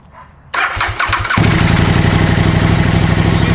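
A KTM RC8R sport motorcycle cranks briefly with a few starter pulses, then its engine catches and settles into a loud, steady idle close up.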